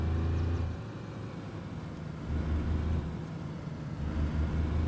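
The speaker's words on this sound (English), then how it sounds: "so is it like the noise of the car?" Car engine in the DayZ survival game on the Livonia map, a continuous low mid-range drone that rises and falls in loudness in a few surges, with no talk over it.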